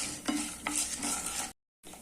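Urad dal dry-roasting in a pan while being stirred for drumstick leaf powder, a close steady scraping and faint sizzle with a brief silent gap near the end.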